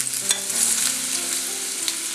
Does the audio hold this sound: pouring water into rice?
no